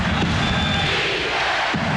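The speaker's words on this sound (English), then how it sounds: "The chant of defense here at the Summit in Houston" Basketball arena crowd at the Summit in Houston during the 1994 NBA Finals, Knicks versus Rockets, a loud dense roar of chanting voices filling the space without pause, distant and reverberant.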